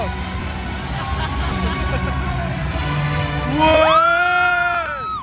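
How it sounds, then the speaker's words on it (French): Cinema audience at a screening of the Bollywood film Pathaan shouts and cheers over the loud soundtrack, a dense crowd roar that swells near the end as sustained tones rise. "Là, dans la salle, tout le monde, ils ont applaudi, ils ont crié."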